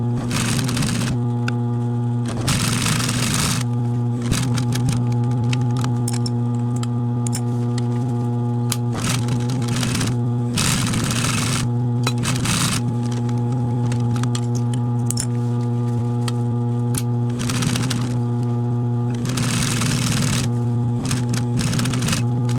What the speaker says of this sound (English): so I can then put the foot down and continue sewing